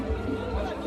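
Dense crowd chatter at the Lucian Jazz & Arts Fest, a close, steady murmur of many overlapping voices with no single voice standing out.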